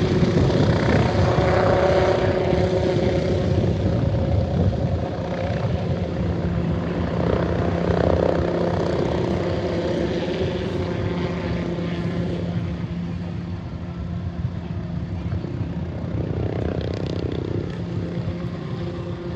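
A helicopter carrying Chief Minister Eknath Shinde lands at a crowded bullock-cart race ground. Its engine and rotor drone stays loud and steady and fills the whole stretch, with no clear voices over it.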